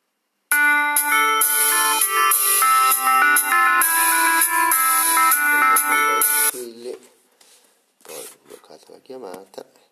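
A phone rings for an incoming call with a bright, melodic ringtone that plays loud and steady for about six seconds, then cuts off as a person starts talking.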